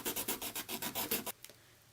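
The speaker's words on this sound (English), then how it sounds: "want to file it down as smooth as possible so it can be flat" A nail file rasps back and forth across a fingernail, about a dozen quick, even strokes in a steady rhythm, close and crisp, then stopping abruptly into near silence.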